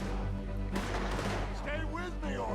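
Bursts of gunfire from the video game Red Dead Redemption 2, a few sharp shots over a rumbling game soundtrack, with some scattered voices in the background.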